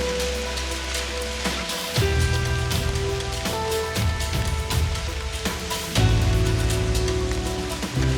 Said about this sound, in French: Il commence à pleuvoir sérieusement.